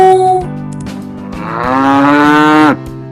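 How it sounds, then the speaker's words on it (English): A calf gives a single long, loud moo that rises and holds before cutting off, heard alone and close. "Calf says, moo moo."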